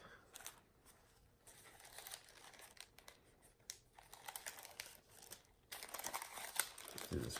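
Wrapping paper crinkles and rustles in bursts while an Hermes item is unboxed, close and fairly loud, with louder crumpling toward the end.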